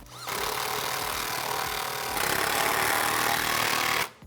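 A power tool runs steadily for a few seconds, tightening hose clamps on front-mount intercooler piping in a 2017–2019 Ford F-150 Raptor. The whir is loud and continuous, climbs slightly partway through, then cuts off.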